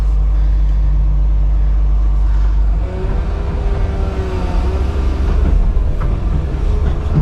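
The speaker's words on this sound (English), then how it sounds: "A little bit of rev go up there." A Komatsu PC360 excavator's diesel engine holds a deep heavy rumble, then rises into a louder rev with a climbing whine midway, close and continuous, with no talk over it.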